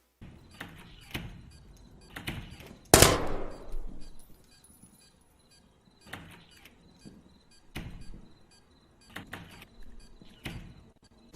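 Gunfire and doors being blasted open in the tactical shooter Zero Hour: sharp repeated shots and impacts crack out in irregular bursts, with one loud blast early on whose noisy tail fades over a second or two.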